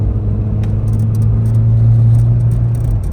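Cabin view of a VW Beetle with an 01M automatic gearbox accelerating in third gear: a smooth, constant low engine hum and road rumble, steady and fairly loud, with a few faint clicks and no speech.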